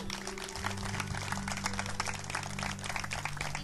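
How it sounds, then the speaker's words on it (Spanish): Congregation at a church service clapping steadily in a dense, sustained wash of applause, with low organ or keyboard tones held underneath throughout. "Un aplauso para Dios por ese nuevo año."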